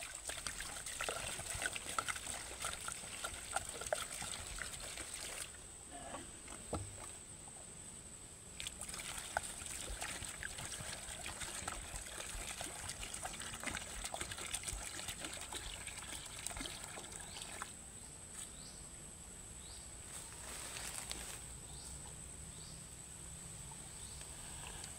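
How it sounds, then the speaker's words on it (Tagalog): Water mixed with a little salt trickles and pours into a small basin for a thin cow to drink, a steady soft splashing and dribbling that continues for the whole stretch, with a few louder gushes and no voices. "kailangan po natin siyang painumin ng tubig"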